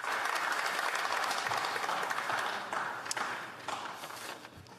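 Dense, sustained applause rises from the public gallery in the House of Commons, steady for several seconds before gradually thinning and fading.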